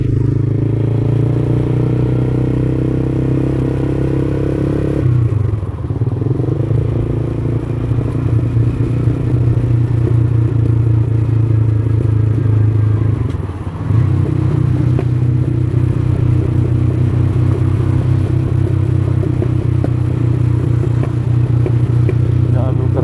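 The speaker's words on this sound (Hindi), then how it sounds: "हाथों को बिल्कुल क्लच से हटा लिया है और इसको तीसरे गियर में डाल दिया है।" A motorcycle rolls steadily downhill in third gear along a jungle road, its low engine drone and rumble continuous and close, with brief dips in tone partway through.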